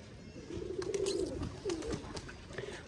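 Pigeons in a loft coo softly, a few low throaty rolling calls close by, with faint rustling and background noise around them.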